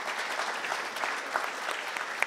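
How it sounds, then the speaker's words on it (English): An audience at an animation fundamentals talk claps in a soft, fairly distant burst of applause, with scattered louder individual claps standing out over the steady patter. "Let's have a round of applause for everybody,"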